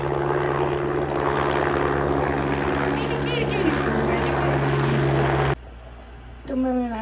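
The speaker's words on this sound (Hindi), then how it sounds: "फिर से हेलीकॉप्टर भाई" Helicopter passing overhead, a loud steady rotor and engine drone with strong low hum that cuts off abruptly partway through, followed by a quieter pause and a short burst of a woman's speech.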